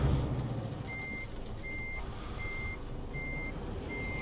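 A truck's reversing alarm beeps in a steady, evenly spaced series over a continuous low engine rumble in Euro Truck Simulator 2, heard alone without talk.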